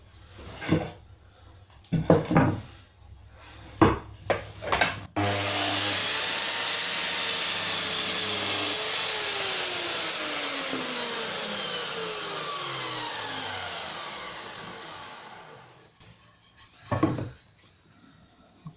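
A saw blade cuts through wood while building a bay window seat. A few knocks come first, then about ten seconds of steady, whining cutting that winds down, followed by more handling knocks.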